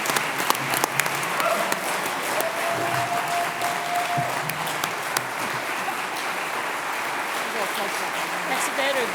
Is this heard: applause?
yes